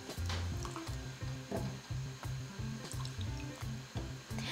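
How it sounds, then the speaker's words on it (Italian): Water runs from a tap into a small pot of artichokes in a kitchen, a steady close pouring stream that gurgles in a repeating rhythm, with no voices. "Aggiungiamo un pochino di acqua, senza esagerare"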